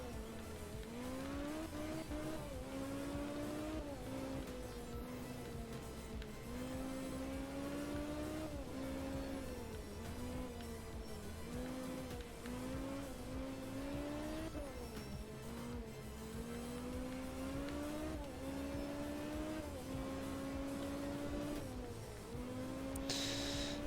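A Group B rally car in the video game art of rally drives flat out, its engine revving and shifting steadily through gears with brief skids as it lands jumps and takes corners, loud and alone.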